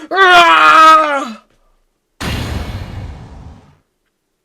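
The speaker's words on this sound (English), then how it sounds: "I've heard that scream before." A long, loud wailing scream from a character in the Phoenix Wright: Ace Attorney courtroom game, falling in pitch and then cutting off, followed after a short silence by a noisy whooshing burst that fades out.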